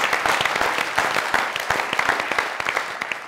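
Audience applause from a studio comedy show audience, dense rapid clapping sustained throughout at moderate loudness with no talk over it.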